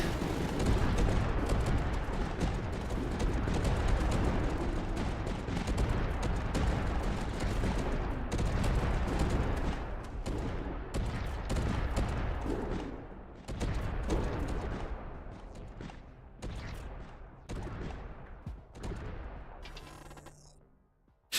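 Howitzers and artillery in the Tower Dominion strategy game fire in a dense, continuous barrage of booms and rapid gunfire, loud and layered at first, then thinning into scattered, separate blasts toward the end.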